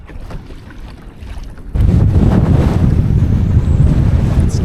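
Strong 25-mile-an-hour wind gust on a lake in New England in March, a loud roaring rush that hits suddenly partway through and buffets the microphone, with water lapping underneath.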